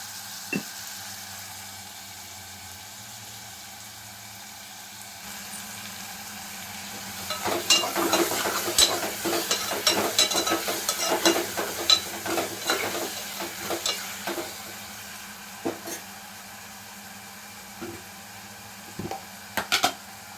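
Dried fish fry in oil in a pan with turmeric and salt, a soft hiss under repeated scraping stirs that come in bursts, close and moderate, with quiet stretches between.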